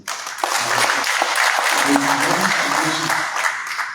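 Applause from an audience at a university convocation press conference, a sustained patter of clapping with voices underneath.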